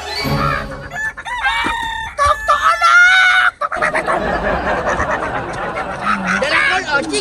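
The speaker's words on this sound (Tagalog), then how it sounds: "Kul, nakapalit na mi og manok, Kul." A live chicken clucks and crows loudly in a home setting, its calls mixed with people talking and laughing close by, the bird's sharp squawks rising over the voices.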